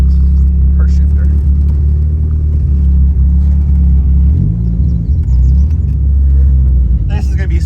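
A big-turbo Dodge SRT-4 car driving, its engine a loud, deep, steady rumble heard from inside the cabin with a slight pitch shift midway and faint noises near the end.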